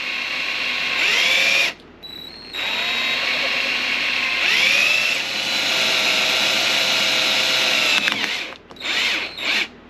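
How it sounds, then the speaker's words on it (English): A power drill fitted with a drill stop bores through the foam and roof of a 2022 Toyota Tundra, a loud, steady whine that ramps up and stops several times, with brief pauses between bursts. "If I didn't have that drill stop on, the drill would have wanted to plunge down"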